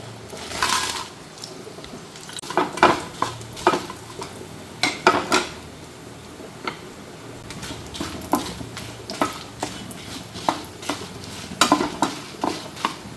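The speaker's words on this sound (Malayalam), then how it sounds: "അതിൽ കുറച്ച് വെളിച്ചെണ്ണ ഒഴിച്ച് ഇതൊന്ന് വറുത്തെടുക്കാം" Two chillies roasting in coconut oil in a pan on the stove: a quiet sizzle beneath frequent irregular spatula scrapes and metallic clinks against the pan, loud and close, with no voices.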